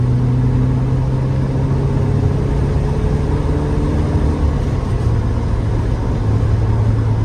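A 1990 Porsche 944 S2 Cabriolet's 3-liter engine runs loud and close, with a constant low rumble and a steady hum whose pitch drifts slightly as the revs change.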